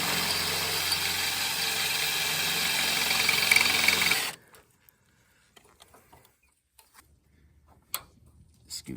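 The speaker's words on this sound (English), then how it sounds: "Scooter on past." A scooter drives past outdoors on a homestead, a loud steady engine drone that cuts off abruptly partway through, leaving quiet ambience with scattered faint clicks and taps.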